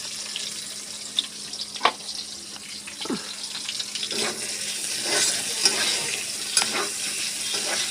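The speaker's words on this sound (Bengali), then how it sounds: "দিচ্ছি পেঁয়াজ লঙ্কাটা দিচ্ছি, ভেজে নেবো ভালো করে" Onions and green chillies fry in oil in a kadai, giving a soft steady sizzle with occasional scraping stirs and clinks of a spoon against the pan, close by and with no one talking.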